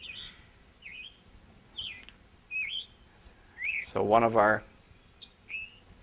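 A robin-like bird sings a series of short whistled phrases, each repeated alone at moderate distance, then ends on a louder burst of rapid chips; a voice speaks briefly in the background.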